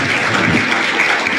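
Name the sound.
congregation applause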